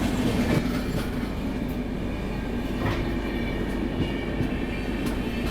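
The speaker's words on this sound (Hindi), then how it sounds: "ओह ये देखिए भाई, सामने से भी कोई ट्रेन क्रॉस हो रही है" The Bharat Gaurav Express rolls past close by in a steady, loud rumble, with rhythmic wheel clacks over the rail joints and no talking.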